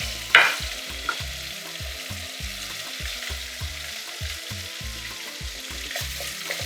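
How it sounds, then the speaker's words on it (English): Prawns fry in a pan with a steady, close sizzle throughout, broken by a sharp utensil clink near the start and a couple of lighter knocks as they are pushed around. "now the prawns are going to go in. So I'm just going to pull that in. You need to allow that to fry."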